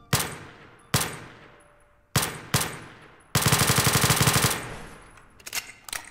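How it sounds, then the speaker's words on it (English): Gunfire striking metal pipes in the SCP: Roleplay video game: several loud separate shots with ringing decays, then a dense rapid automatic burst and a few trailing shots. "if you guys actually shoot at metal pipes or like anything metal material, then it like makes a sparking visual effect"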